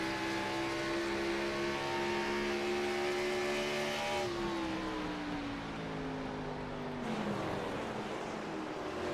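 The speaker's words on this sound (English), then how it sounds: "Oh man, listen to that throttle. Listen to his engine." A race car engine in the iRacing simulator during an Xfinity Series event at World Wide Technology Raceway (Gateway), holding a steady high-pitched drone that drops in pitch twice as the throttle eases, alone and fairly loud.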